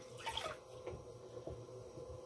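Water being cleaned up while throwing pottery on a wheel produces soft wet splashes, drips and sponge squelches, faint and close, with no one talking.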